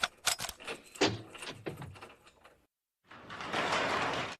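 Several door locks are fastened one after another, sharp metallic clicks and clacks in quick succession, then a pause and a burst of rattling mechanism noise.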